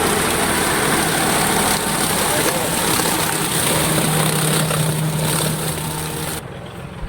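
A tractor engine runs steadily and close by during a safflower harvest, a loud continuous rumble with a droning hum that drops away abruptly near the end.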